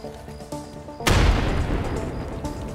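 A grenade detonates in Escape from Tarkov, a sudden loud boom that rolls into a long rumbling decay, following a quieter stretch of game ambience.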